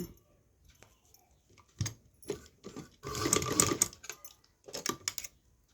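A sewing machine stitching a puff sleeve, running in short bursts of rapid mechanical stitching with quiet pauses between, close and fairly clear.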